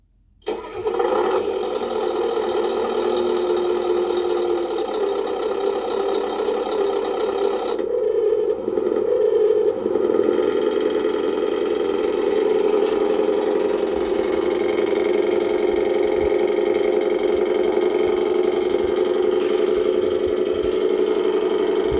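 Engine sound from a Beier SFR 1 sound module in an RC Scania 8x4 V8 truck: a start-up burst, then a loud steady idle rumble running throughout with a slight change in tone near eight seconds, alone without talk.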